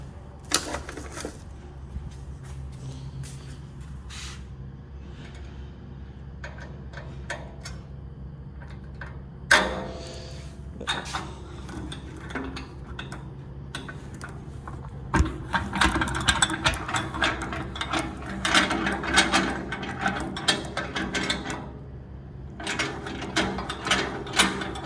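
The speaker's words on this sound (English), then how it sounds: "All right, and now we're gonna tighten it." Tightening a screw on an Expert Grill heavy-duty 24-inch charcoal grill during assembly with a hand ratchet, giving repeated close clicking strokes that speed up and grow busier in the second half.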